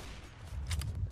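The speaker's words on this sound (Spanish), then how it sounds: "Eso es una escopeta." A shotgun in a Roblox game fires in a short burst of sharp, punchy blasts, close and loud over a low rumble, lasting only about a second.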